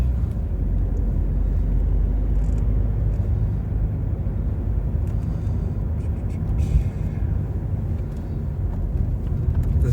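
A car drives along in a steady low road rumble with engine and tyre noise, heard from inside the vehicle on a Pixel 4a 5G phone, continuous and fairly loud throughout.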